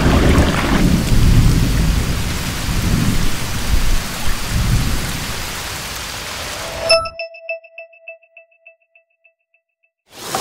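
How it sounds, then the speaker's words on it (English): Heavy rain pours down hard over the Benthemplein water square in Rotterdam, with basins fed through a water wall, a dense loud roar and rumbles of thunder that cut off abruptly, leaving a few fading chime-like tones before the roar briefly returns. "If the rain comes pouring down hard"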